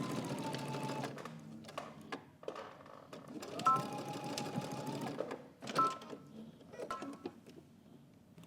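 A sewing machine stitches a coat undercollar in several short bursts of rapid whirring and clattering, with brief pauses between runs, heard up close and moderately loud.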